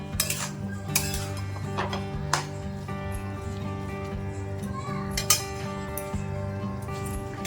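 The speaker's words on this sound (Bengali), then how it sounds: "হাই হিটে এইভাবে নাড়তে থাকুন" Spinach stirred in a pan over high heat, with utensil clinks and scrapes recurring through a steady bed of cooking noise and a faint background hum.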